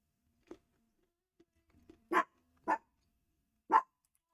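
A dog barks a few times, starting with small soft yips and then three loud, sharp barks spaced apart in a quiet room.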